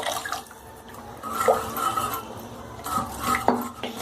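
Utensil scraping and clinking in a pot of gram-flour kadhi with drumsticks, with bursts of stirring around the middle and end, some watery texture, no voices.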